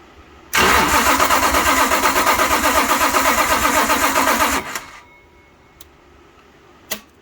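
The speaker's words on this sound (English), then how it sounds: "Pro Stock twin plug Hemi setup on, it's mocked up for spark test." A mocked-up 1970s Pro Stock 426 Hemi with twin-plug, 16-plug dual-distributor MSD ignition fires for a spark test: a loud, rapid, steady buzzing rattle for about four seconds that cuts off sharply, followed by a couple of faint clicks.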